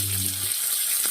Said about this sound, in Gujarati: હમણાં કઢી પત્તા નાખીએ.